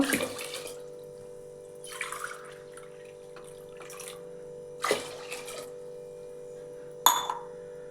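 Water poured in a few separate splashy bursts into a pressure cooker holding washed rice and moong dal for pongal, each pour short and close, with a steady hum and quiet pauses between.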